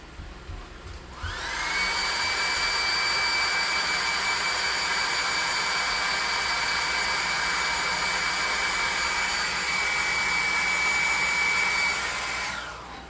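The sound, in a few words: hair dryer blowing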